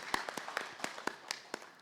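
An audience claps at an agricultural dialogue session in Nigeria, giving thin, scattered applause of separate sharp claps at an uneven rhythm rather than a dense roar.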